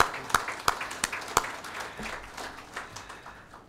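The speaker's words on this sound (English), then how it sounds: "let's welcome amidst a warm round of applause our distinguished chief guest" Audience welcoming a chief guest at a business talk, a few distinct loud claps in a steady rhythm at first, then thinning into lighter, scattered clapping that fades.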